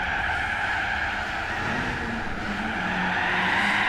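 In Gran Turismo 4, a game car slides and drifts with a loud, steady tire squeal over a droning engine. The skid holds without a break and shifts slightly in pitch, with no talking.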